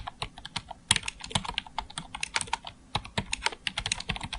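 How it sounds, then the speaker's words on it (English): Fingers type rapidly on a computer keyboard, a quick irregular patter of light clicking keystrokes with a few harder taps, close and clear with no talking. "I'm going to click once and just start typing"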